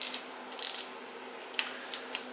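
Ratchet snugging down bolts on a GM 10 bolt axle during final assembly, heard as a few soft, brief clicking bursts close by against a faint steady hum, with no talk.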